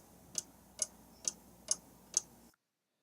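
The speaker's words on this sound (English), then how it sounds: "Ticking clock." Ticking clock sound effect: five evenly spaced crisp ticks about half a second apart over a faint steady hiss, then abrupt silence, no talking.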